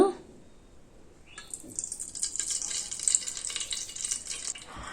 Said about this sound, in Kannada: ಈ ರೀತಿ ನಾವು ಎಣ್ಣೆಯಲ್ಲಿ ಅದನ್ನು ಚೆನ್ನಾಗಿ ಫ್ರೈ ಮಾಡ್ಕೊಳ್ಬೇಕಾಗುತ್ತೆ